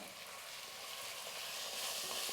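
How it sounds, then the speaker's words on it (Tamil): Tomatoes, finely chopped, land on sautéed onions in a hot pan, giving a steady, loud oily sizzle with stirring noises throughout and no voices. "இப்போ தக்காளி வந்து பொடியாக கட் பண்ணி வச்சுக்கிறேன் தக்காளி சேர்த்துக்கிறேன்"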